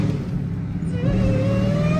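A Dodge Demon Charger engine revs hard while its tires spin in snow, a loud, close engine roar whose pitch climbs steadily through the final second.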